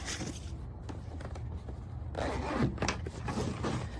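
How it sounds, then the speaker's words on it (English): A zipper closes on a jump starter's carrying case in a few drawn-out runs, close and continuous for several seconds with a brief pause partway. "Zip it up."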